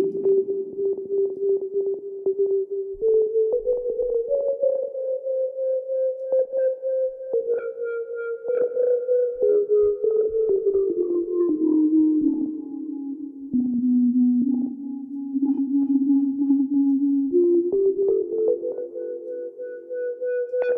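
Bell-like synth tones from the Drambo app run through an FDN feedback delay, sustained and ringing, sliding between pitches with shimmering overtones and a continuous delay tail, loud and alone throughout.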